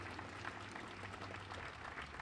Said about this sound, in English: Let's have another round of applause for those fine folks